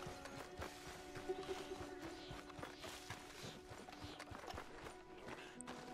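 Steady hoof clip-clop from a horse, regular and mid-distance, over a busy background of ambient game sound and low tones, in Red Dead Redemption 2.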